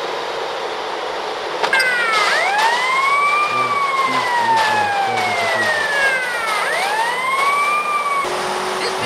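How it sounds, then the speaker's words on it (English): A police car siren in a video game wails in repeated rising and falling sweeps, loud and clear over a low rumble, with no talk. "Indestructible police car. You can choose any indestructible police car if you want."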